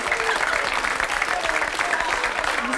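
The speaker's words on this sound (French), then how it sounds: "vous pouvez l'applaudir" A studio audience at a French television show applauds loudly and continuously, a dense wash of clapping with faint voices mixed in.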